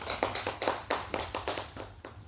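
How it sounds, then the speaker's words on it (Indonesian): A small classroom group claps for fellow students, roughly a dozen distinct, fairly quiet hand claps in a quick, slightly uneven rhythm over a faint low hum. "Beri tepuk tangan untuk kelompok 2."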